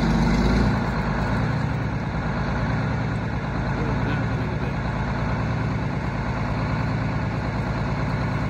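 Old Silversides bus in Minnesota backing up under its own power, a steady low diesel rumble and idle drone holding close and even throughout, with no voices.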